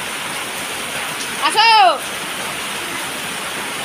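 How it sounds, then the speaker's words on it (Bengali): Heavy rain pours down in a dense, steady roar close by, continuous throughout, with a person briefly calling out over it partway through. "প্রচন্ড বৃষ্টি পড়ছে।"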